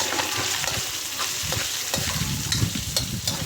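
Steady sizzling of food frying in a pan, with a constant hiss and repeated scraping of a spatula stirring and tossing the ingredients, close and continuous with no talking.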